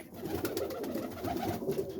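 Roller pigeons coo in a close, steady chorus of soft, throaty burbling notes with no talk.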